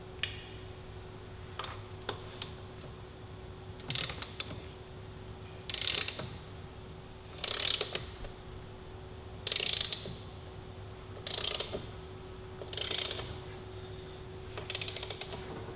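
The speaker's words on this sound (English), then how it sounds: "You can use a socket to get it started" Ratcheting socket wrench with a 17 mm deep-well socket driving motorcycle endurance cups into place, heard as repeated short bursts of quick clicking roughly every two seconds, close up with no talking.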